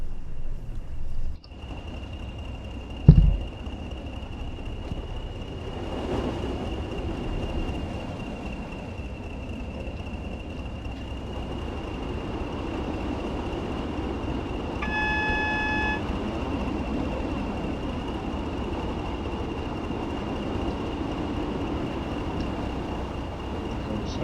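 Steady running of a London Underground train in the Train Sim World game, a continuous rolling rumble with a sustained high tone, a sharp knock early on and a brief beeping chime midway.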